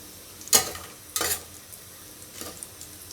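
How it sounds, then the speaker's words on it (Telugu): Cashew nuts fry in a pan for vegetable khichdi, with two sharp sizzling bursts as they are stirred, then a fainter third, over a quiet background. "ఇవి కొంచెం బ్రౌన్ కలర్ వచ్చే వరకు వేగినిద్దాము"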